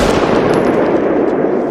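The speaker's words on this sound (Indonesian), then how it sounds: "calon pembeli barang tiba-tiba melesatkan tembakan ke arah langit" Rapid gunfire bursts into the sky during a tense film standoff, a dense continuous crackle of shots lasting under two seconds, loud and close with no talking.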